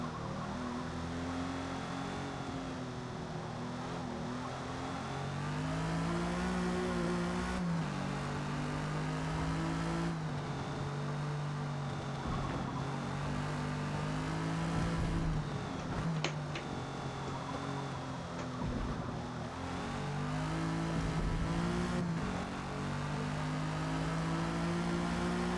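A 1956 Jaguar D-Type races around the Yas Marina circuit in Forza Motorsport, its engine droning and revving steadily up through the gears with repeated shift drops and rises, continuous and close for the whole run.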